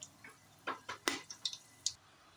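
Whole star anise, cinnamon and fennel frying in hot oil for a mutton curry, heard as a handful of faint, quick crackles and pops scattered irregularly over a quiet background.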